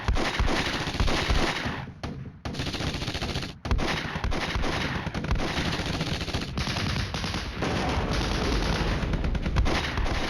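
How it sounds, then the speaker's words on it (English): Aircraft strafing with rapid bursts of machine-gun fire and booming shots in the wargame Flashpoint Campaigns: Red Storm, loud and dense, with a couple of brief pauses. "he will come in and fly in and shoot"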